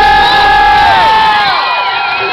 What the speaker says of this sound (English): I don't think the crowd want you to do one more.